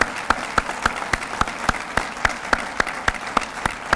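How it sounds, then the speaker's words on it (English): An audience claps for graduates at a commencement, with crisp, evenly spaced claps in a steady rhythm of roughly three or four per second, fairly close and without voices. "you deserve a round of applause"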